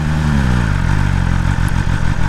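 A 2022 BMW M1000RR motorcycle engine fires up close by, cranking into a loud, throbbing idle with rapid mechanical pulses.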